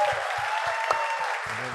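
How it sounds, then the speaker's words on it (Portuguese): Applause from a small audience at a podcast recording, moderate and continuous clapping with low thumps and a brief voice near the end. "Palmas para o Gian."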